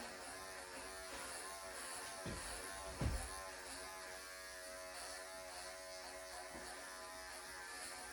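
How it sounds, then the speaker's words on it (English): Electric clippers shave the fur of a doodle dog during grooming, a faint, steady buzzing hum with a couple of brief louder bumps as the blade moves. "So I'm gonna shave all of this off here."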